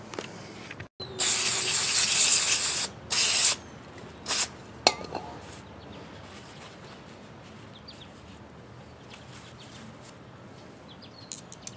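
Aerosol lubricant sprayed onto front brake parts of a 2005-2012 Ford Escape in a garage: two close, loud hissing bursts of about two seconds and one second, then a few short puffs, with quiet room tone afterward and no talking.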